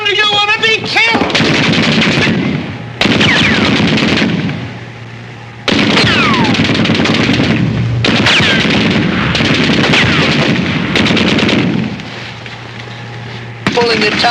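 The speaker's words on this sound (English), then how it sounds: "Machine guns!" Machine guns fire in long, loud continuous bursts during a wartime scene in a Laurel and Hardy comedy film, with several brief breaks and shouted voices cutting in between the volleys.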